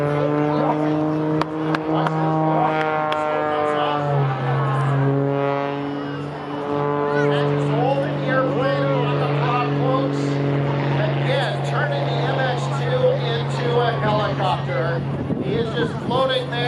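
An MX2 aerobatic airplane at an airshow, its engine droning loud and sustained with a steady low hum that slides in pitch as the plane maneuvers, under continuous commentator talk.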